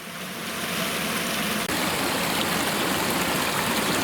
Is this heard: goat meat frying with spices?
no